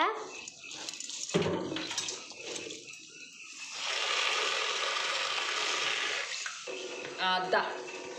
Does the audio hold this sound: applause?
no